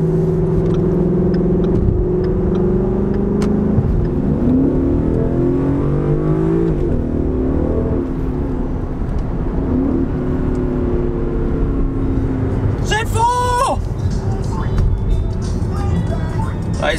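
A Ford Mustang GT cruises along the Las Vegas Strip, its engine a steady low drone with a brief rise in revs, heard from inside the car under near-constant talk.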